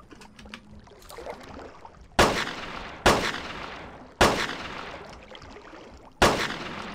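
Tactical rifle shots in the Carnivores Fallen Kings video game ring out as four loud, sharp single reports at irregular intervals, each with a short fading tail, after quieter background game ambience.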